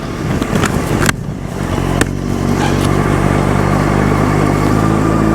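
Motorcycle engine on a UK learner training ride in a 20 mph zone, shifting up into second and third gear, a steady loud drone with brief dips in pitch at each gear change and no talk.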